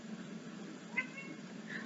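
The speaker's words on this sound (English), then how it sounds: "Sorry, cat's meowing" A house cat gives a single short, faint meow somewhere indoors, quiet against a low steady background hum.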